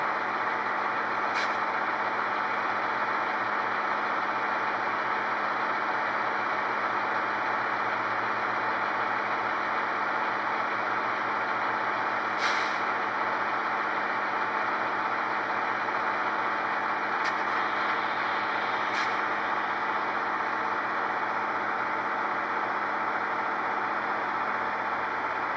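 A model diesel locomotive with a Soundtraxx Tsunami 2 sound decoder in a Genset II installation runs at notch 4, giving a steady, continuous engine drone with a few brief hissing bursts.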